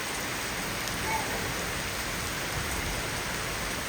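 Heavy rain pours steadily with a dense, even hiss that continues without pause.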